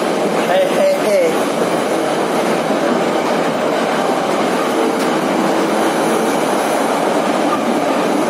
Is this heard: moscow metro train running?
yes